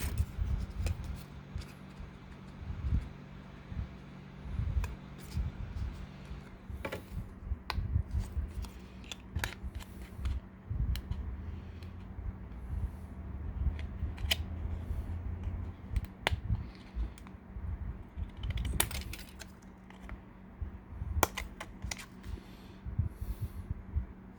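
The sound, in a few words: cutting off piece for Titanic wreck model diorama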